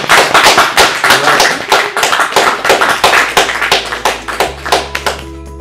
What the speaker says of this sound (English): another round of applause after this